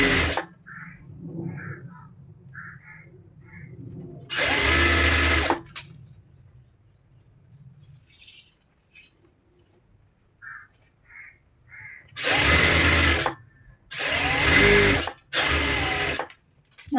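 Sewing machine stitching a cigarette pant, several loud bursts of rapid mechanical whirring, one short run early and a cluster of longer runs near the end, separated by quiet stretches with a crow cawing faintly in the background.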